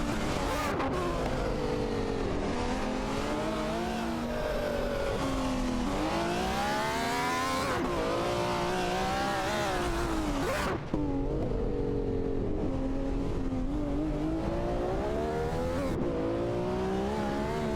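A Shelby Series 1 and a Porsche 959 race in a racing video game, their engines revving hard and rising and falling through gear shifts in a loud, continuous roar with faint tire squeal.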